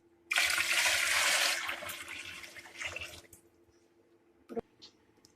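Water pours steadily into a cooking pot of rice for dal chawal for a few seconds, then thins to a trickle and stops, followed by a clink of metal.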